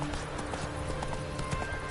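Galloping horse hooves from the video game Witcher 3 beat out a quick, steady clip-clop rhythm, loud and close, filling the short moment alone.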